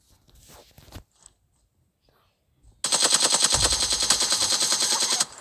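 Rapid automatic gunfire from PUBG Mobile rattles in a loud, dense burst lasting about two and a half seconds, preceded by faint speech and shuffling.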